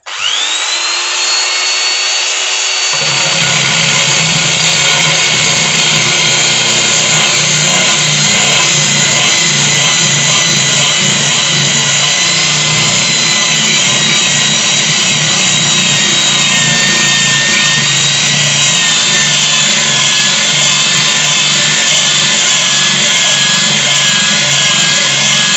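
A power drill bores steadily through aquarium material while water is applied, its loud continuous whine with a rising pitch holding alone for over twenty seconds after a short quieter start.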